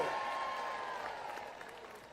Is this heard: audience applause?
yes